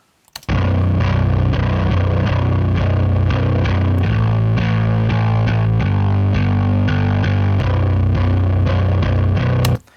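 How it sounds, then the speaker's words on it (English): A gritty, overdriven bass guitar plays a steady riff of sustained low notes, loud and up front, with no other instruments or voices. "the main bass tone sounds like this"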